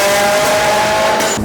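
Subaru WRX engine on a dyno pull with failing spark plugs, a loud sustained high-rpm drone with rough misfire popping, cutting off sharply near the end.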